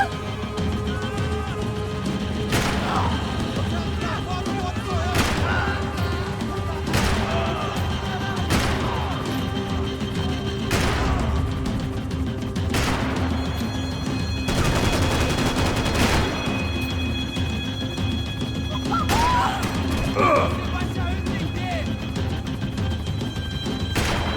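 Gunfire in the Max Payne 3 video game, with repeated loud gunshots cracking out at irregular intervals across a steady roar of engine and ambient noise, some shots coming in quick bursts.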